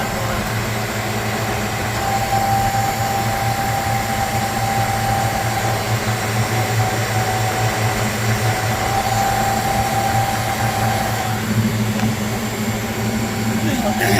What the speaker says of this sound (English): maybe that fan motor's going out.